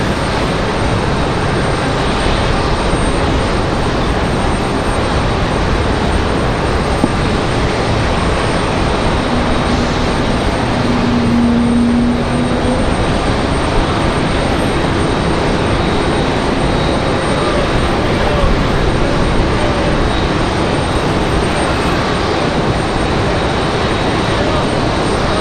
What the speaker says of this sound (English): Looks like we got Southwest arriving now. Southwest coming in from Tampa.